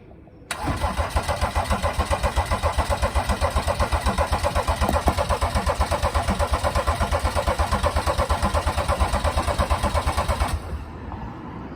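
A BMW N57 3.0 diesel from a 330d cranks over on the starter for about ten seconds, giving a steady, rapid, loud rhythmic churning that never catches, then stops abruptly.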